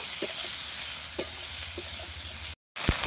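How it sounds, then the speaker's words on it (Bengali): Bitter gourd fries in a pan, a constant close sizzle punctuated by several distinct scraping stirs of a spatula, with a short abrupt gap of silence near the end before the sizzling resumes. "লাল লাল করে ভেজে নেব উচ্ছেটা"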